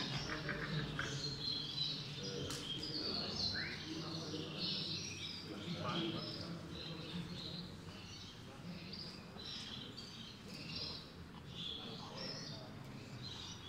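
Gloster canaries chirp and twitter at a canary show, their high calls repeating throughout amid a steady murmur of people talking and hall noise.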